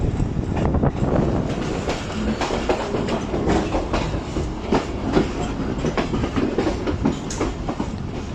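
Fareed Express passenger train running on the ML1 main line toward Karachi in rain, with steady loud rumble and repeated clickety-clack of wheels over rail joints throughout, no talk.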